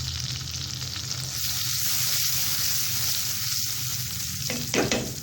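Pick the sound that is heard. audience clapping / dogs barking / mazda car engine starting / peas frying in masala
peas frying in masala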